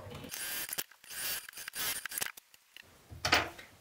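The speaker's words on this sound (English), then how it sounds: "Top stitching just an eighth of an inch away." A sewing machine topstitches fabric for a pull-tab wallet, giving close, busy mechanical whirring and clicking in short bursts with brief pauses between runs.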